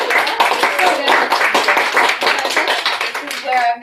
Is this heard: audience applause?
yes